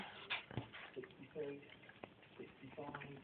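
A Jack Russell terrier whimpers and whines close by in a home, with short yips and pleading whines in uneven bursts, and people talk softly underneath.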